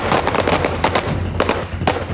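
Gunfire at a shooting competition, a rapid string of loud, sharp shots cracking out in quick succession from close range.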